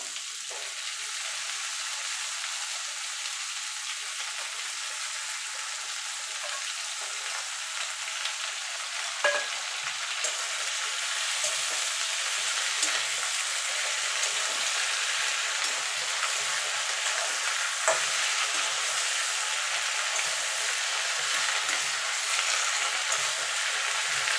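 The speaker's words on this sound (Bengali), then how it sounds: "কুমড়োটা আর আলুটা একটু নেড়ে নিয়েছে মিনিট খানিক ধরে এবার পুঁই শাকটা দিয়ে দেবো" Pumpkin, potato and Malabar spinach stir-fry in a pan for a vegetarian dish, with a steady, even sizzle throughout, a few faint scrapes of stirring, and no talking.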